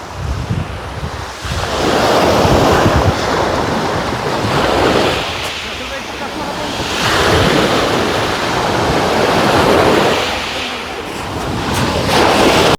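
Sea waves roll onto Konyaalti Beach in Antalya, Turkey, in loud, steady surges that build and recede every few seconds, with strong wind buffeting the microphone throughout.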